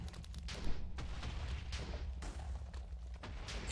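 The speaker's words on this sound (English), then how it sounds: "You can hear the explosions from the explosion generator." Explosion generator in Minecraft's FTB Oceanblock modpack going off repeatedly, a dense run of booming blasts and pops with loud low rumble throughout, several sharper bursts standing out.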